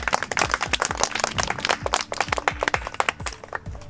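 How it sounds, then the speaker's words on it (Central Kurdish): A small group claps together in a round of applause for friends at a village gathering, with dense, uneven handclaps that stay close and lively for several seconds. "یەک چەپڵە بۆ یاران"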